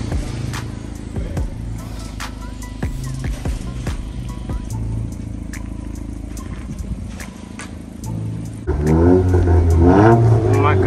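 A 2018-2022 Honda Accord 1.5 with a Borla S-Type exhaust revs repeatedly, several sharp blips rising and falling over a rumbling idle, ending in a louder sustained rev as a person talks over it.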